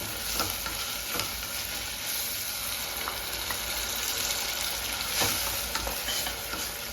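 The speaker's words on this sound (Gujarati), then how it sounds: "પછી એમાં આપણે આ ટામેટાની પેસ્ટ બનાવેલી છે એ નાખીશું" Tomato paste frying in a pan with garlic paste while dal pulao is being cooked, giving a steady close sizzle throughout, with a few faint clicks and stirring scrapes and no talking.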